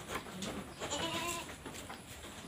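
Goats bleating in a pen at a model goat farm in Padang, where pregnant does and fattening males are kept, with several overlapping calls close by against steady barn noise.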